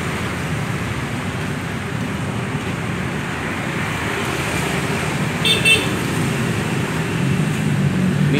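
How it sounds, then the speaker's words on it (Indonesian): A Dongfeng 1130 diesel engine runs steadily after starting, a continuous close low rumble with no talk over it. "Tongpeng 1130 sudah starter, double starter ini original Tongpeng"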